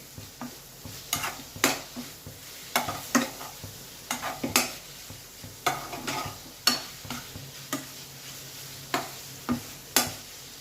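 Masala for parval sabzi frying in a pan over high heat, with repeated sharp spoon strokes against the pan in a steady rhythm over a low sizzle, close and without talk.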